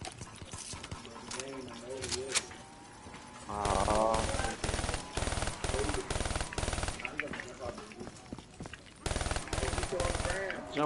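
Heavy guns fire in a zombie video game: loud, rapid machine-gun bursts come in repeated clusters separated by short pauses, with players talking throughout.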